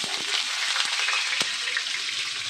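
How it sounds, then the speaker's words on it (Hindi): Sliced onion frying in refined oil in a wok gives a close, bright, steady hiss of sizzling, broken by a few sharp stirring knocks. "तो इसको फ्राई करके ब्राउन अनियन बना लेना है।"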